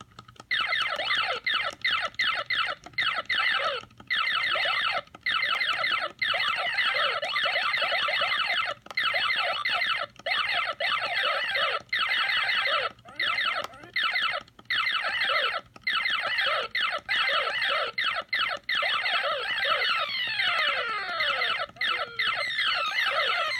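Galaga running on a Basic Fun Walmart-exclusive mini arcade unit gives off a loud, continuous stream of electronic chirps, bleeps and sweeping tones with no break, and no one talks over it.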